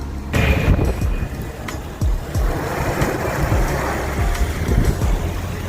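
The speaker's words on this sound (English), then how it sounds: "Waterfall mighty pretty, huh?" A loud, steady roar of falling water from a waterfall, broad and continuous with rushing, surf-like texture and low rumble throughout, no talking.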